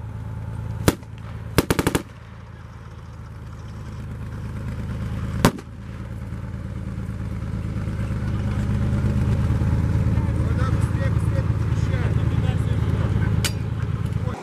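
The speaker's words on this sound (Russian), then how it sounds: "Боец находится в неглубоком окопе, а над ним проезжает бронированная техника. В данном случае использовали боевую машину пехоты." An armoured infantry fighting vehicle rumbles over a shallow trench during a training exercise. Its engine grows steadily louder and nearer, with bursts of gunfire cracking sharply in the background.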